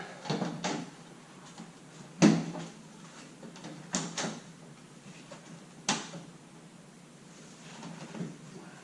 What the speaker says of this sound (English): Pop your door back on.